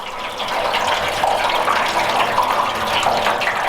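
Water draining out of a pulled coolant pipe on a Ford Sapphire RS Cosworth, a steady close gushing pour running continuously without letting up, with no one talking.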